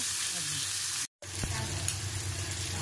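Onion, curry leaves and tomato sizzle steadily in a pan, close and even, with a brief cut to silence partway and a few light stirring knocks after it.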